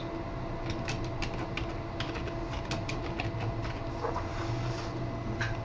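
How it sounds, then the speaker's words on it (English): Fast, close typing on a computer keyboard, the light keystrokes clattering in uneven bursts over a steady background hum, with no talk. "Let's type something stupid"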